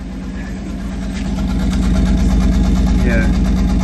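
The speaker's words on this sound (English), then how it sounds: "there's still a little putt-putt from the exhaust." An Alfa Romeo 156 2.5 V6 Busso engine idles nearby with a steady low rumble and a faint rhythmic putt from the exhaust, growing slightly louder over the few seconds.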